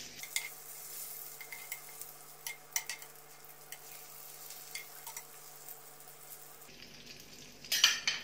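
Eggplant pieces for achari baingan fry softly in a pan, with faint sizzling and scattered scraping taps as they are turned, then a brief louder clatter near the end.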